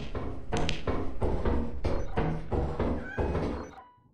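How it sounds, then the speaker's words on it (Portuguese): Repeated thumping hits with short meow-like cries from a cat in the game Lethal Company, several bursts in a steady rhythm, fairly loud, no talking. "Eu ouvi um gato, tem um gato."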